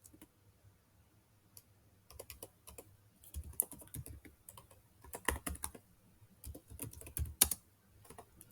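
Java code is typed on a computer keyboard in quick, uneven bursts of close, crisp key clicks, separated by short quiet pauses and occasional louder keystrokes.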